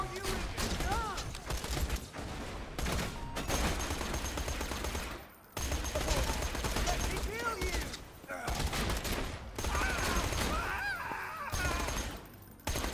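Rapid automatic gunfire with a boosted fire rate in the Borderlands video game, loud dense bursts broken by short pauses for reloads, with game effects mixed in.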